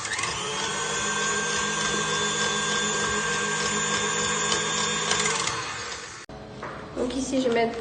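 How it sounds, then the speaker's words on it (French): A stand mixer whirs steadily at a constant pitch as it loosens choux pastry dough for chocolate-glazed éclairs, then cuts off after about six seconds, followed by brief handling noise. "Donc nous allons utiliser un robot."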